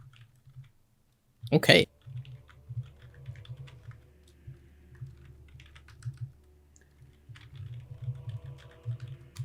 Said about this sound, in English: I'm typing it in text just so that like we don't forget and all that.